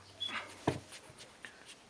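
Newborn puppies give faint, brief whimpers and squeaks, a few soft scattered cries close by in a quiet room, with a light tap in between.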